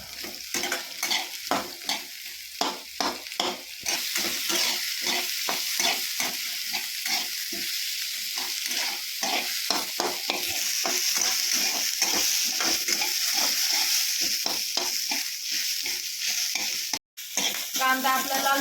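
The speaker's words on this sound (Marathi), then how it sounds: "कांदा आधी चांगला लाल भाजून घ्यायचा." Onions fry in a pan for a village-style chicken rassa, with a continuous close sizzle broken by regular scraping stir strokes. There is no talking.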